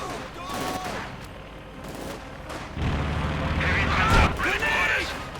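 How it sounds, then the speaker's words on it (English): Panzerwerfer rocket barrage in Company of Heroes 2, a string of booming launches and blasts rising in density toward the end, heard loud and close over game voice lines and busy battlefield noise. "Panzerwerfer is ready for action. And more rockets."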